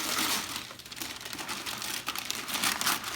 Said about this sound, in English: Okay, I'm ripping the paper.